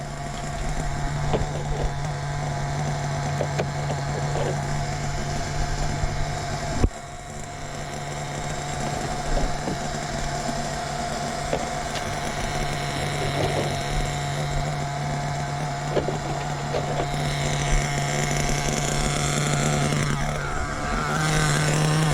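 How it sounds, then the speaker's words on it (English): A small nitro RC car engine idles steadily with a constant buzzing drone, close by and unchanging, rising slightly near the end with no voices. "Idling, purring like a kitten."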